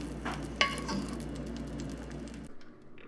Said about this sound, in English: we're going to fry the tortillas in this pan right here